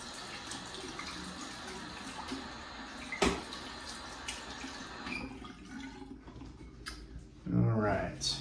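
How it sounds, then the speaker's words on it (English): Cold water runs from a bathroom tap in a steady close hiss, with a sharp knock partway through and a louder splashing burst near the end. "I'm going to use the cold water."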